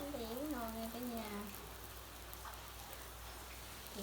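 Rain falls as a faint, steady hiss throughout, while a voice speaks briefly near the start.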